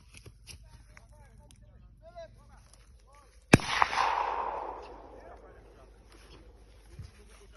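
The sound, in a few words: gunshots while bird hunting in Jamaica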